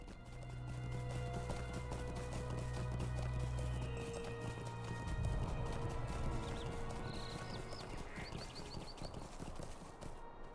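A horse's hooves clip-clop in a quick, steady rhythm as it is ridden through the Lonelands in an online fantasy role-playing game. The hoofbeats carry on over a constant background bed, and small bird-like chirps come through near the end.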